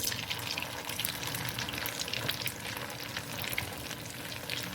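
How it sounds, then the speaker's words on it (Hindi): Ingredients for Chinese rice fry in a pan with a steady, close, hissing sizzle and occasional stirring, with no one speaking. "ऐसे मैंने ये सारे अच्छे से पका लेने हैं, फ्राई कर लेने हैं।"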